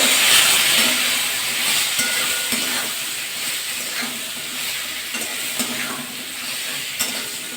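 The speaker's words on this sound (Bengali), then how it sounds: "লবণ দিয়ে ভেন্ডিটা একটু ভাজা ভাজা করে নেবো" Steady hiss and sizzle of salted okra frying in hot oil, with occasional scraping and stirring clicks, close up and continuous without talk.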